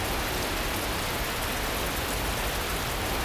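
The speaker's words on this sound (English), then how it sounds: "the relentless rain piercing through the tree canopy was slowly snapping their endurance as well" Heavy rain pours steadily through a jungle canopy at night, a dense, unbroken hiss with no gaps or voices throughout.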